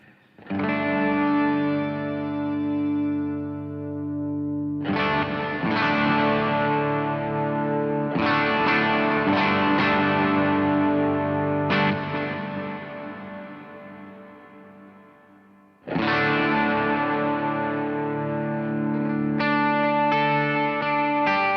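An electric guitar runs through overdrive, delay and reverb on a Chaos Audio Stratus multi-effect pedal, sounding sustained, saturated chords that ring out in long washes with a few clear pauses between strummed passages and no voice.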